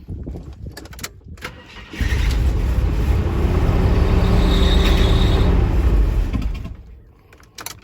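A Jeep Grand Wagoneer engine, fitted with a new fuel pump, cranks and fires up. A loud, steady rumbling idle runs close by for several seconds, then drops away.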